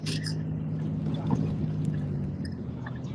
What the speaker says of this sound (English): we got the damn neighbor cranking up his fucking raggedy ass Murray lawnmower